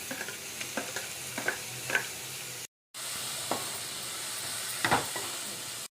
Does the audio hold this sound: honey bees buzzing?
no